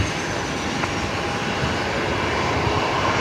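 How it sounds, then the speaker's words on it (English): A Velocity Boeing 737-800 departing Brisbane for Sydney at night, a steady broadband engine roar holding at a constant level throughout, with no talk. "Velocity 970 going to Sydney tonight. The 737-800."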